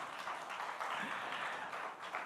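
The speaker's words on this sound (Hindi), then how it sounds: "तो जोरदार तालियां तो बिना कहे हो जानी चाहिए दोस्तों" An audience at a Creators Manch event in India breaks into applause, a dense, steady wash of clapping heard at a moderate distance with a faint voice briefly underneath.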